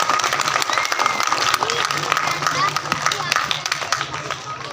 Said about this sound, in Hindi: तो तालियां चट्टा साहब के लिए।